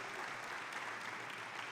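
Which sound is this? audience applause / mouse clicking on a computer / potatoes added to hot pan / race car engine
audience applause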